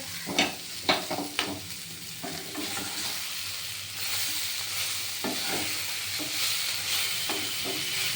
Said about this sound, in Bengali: এটা আস্তে আস্তে ভাজা হয়ে যাবে হ্যাঁ